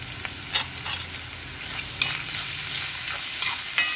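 Ginger and half a chopped small onion fry in a pan for puli inji, a steady sizzle broken by scraping stirs, close and alone with no voices.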